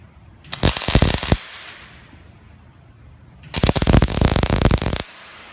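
Welding a tack onto a horseshoe cross craft piece gives two loud bursts of crackling, sputtering arc, the first about a second long and the second about one and a half seconds, separated by quiet hum.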